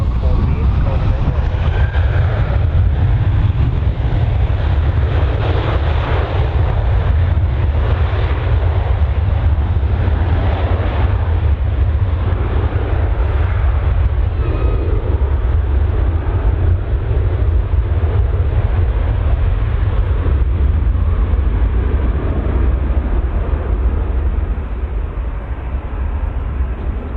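An airliner roars steadily at Birmingham Airport, a loud, continuous deep engine rumble that holds for the whole stretch and eases slightly at the end, with radio talk mixed in beneath.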